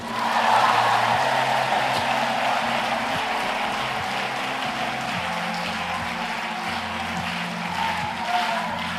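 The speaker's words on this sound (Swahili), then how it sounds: "Piga makofi na shangwe." A large crowd at a Tanganyika gathering claps and cheers in a steady, dense wash of applause that fills the whole stretch, loud and continuous with slight swells.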